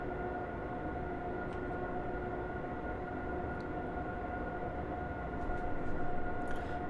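A train in a Train Simulator game on the Zurich to Vienna route runs with a steady, fairly quiet rolling drone and faint tonal hum, swelling slightly near the end.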